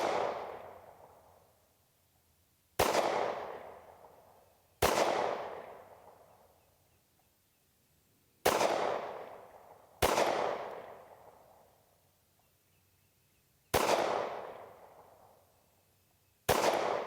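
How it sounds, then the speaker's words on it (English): Shots from a SAR USA K12 Sport pistol loaded with Midwest Ammo 115 grain rounds: six sharp, loud reports spaced irregularly a couple of seconds apart, each trailing off in an outdoor echo. "I'm going to shoot about a 10-shot group with each one"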